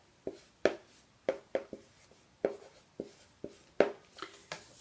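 Pen or pencil writing a short word by hand during a spelling lesson, a series of close, crisp scratchy strokes in quick bursts with brief pauses, no voices.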